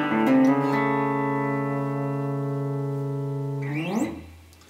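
Electric guitar lick in A over an A dominant 7 chord, heard as one sustained bent note ringing clearly for nearly four seconds before a quick slide down and fade, alone and fairly loud.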